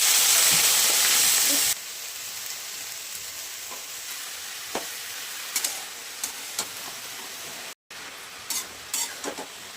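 Crushed garlic and spring onion hit hot oil in a pan, starting with a loud bright sizzle that drops to a softer steady frying hiss with scattered pops and stirring clicks.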